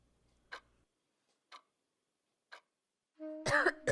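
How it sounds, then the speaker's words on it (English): Clock ticking in a quiet room, three evenly spaced single ticks a second apart, close and clear, followed by a brief louder burst of other sound at the end. "The ticks of the clock came and went, one after the other, pounding like hammers on my heart."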